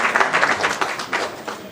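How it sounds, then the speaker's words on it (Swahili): Crowd applause at a political party rally as a defector from UDA is welcomed into ODM, brisk irregular clapping from a gathered audience, moderately loud and continuous, with some voices underneath. "makofi akikaribishwa kwenye chama"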